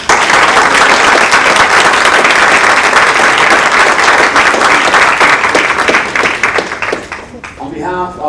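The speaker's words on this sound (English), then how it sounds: "ask for the loudest round of applause for every contestant this evening" Loud audience applause for every contestant at a student tourism colloquium in New York City, a dense sustained clapping that thins and fades near the end as a voice begins speaking.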